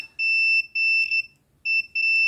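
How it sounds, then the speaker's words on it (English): High-pitched electronic beeps from a continuity tester testing a fader sound in three bursts, steady tones cutting off briefly between them, loud and close in an otherwise quiet room. "when I pull it down, the resistance goes above 50 ohms, and so it stops beeping"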